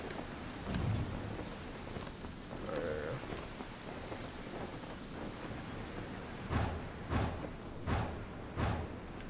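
Steady rain pours in the Genshin Impact game world, a dense hiss that holds throughout, with a low rumble of thunder early on and several sharp, loud drops or splashes striking in quick succession near the end.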